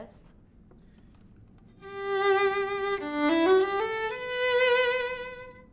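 After a brief pause, a bowed string instrument fitted with a rubber mute plays a short phrase of sustained notes, sounding softer and more muted than an open tone.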